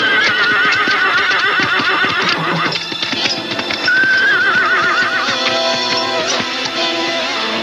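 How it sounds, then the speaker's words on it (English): Spooked horses neigh and whinny repeatedly and loudly up close, with shrill calls overlapping amid hoof clatter, and no talking. "their horses were suddenly spooked."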